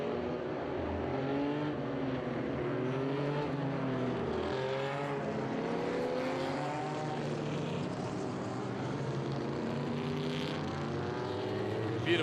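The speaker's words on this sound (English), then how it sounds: "Beautiful sight and sound here as we get some real beautiful engine sounds." Multiple Group 5 race car engines, including BMWs and an old Datsun 240, roar along a track during qualifying, a dense layered drone of shifting pitches, loud and sustained without pause.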